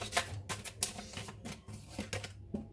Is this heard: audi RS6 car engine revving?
no